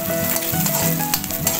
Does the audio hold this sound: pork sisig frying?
yes